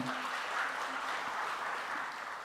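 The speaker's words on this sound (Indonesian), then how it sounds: "tepuk tangan buat Pak Eka Mertawan" An audience at an award ceremony claps steadily, a dense even patter of many hands that holds for the whole stretch at moderate distance.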